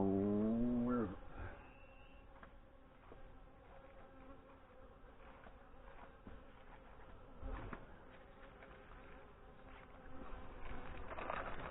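Honey bees drone around a beehive that is preparing to swarm, a soft, steady buzz filling the background with occasional closer passes and faint handling noises.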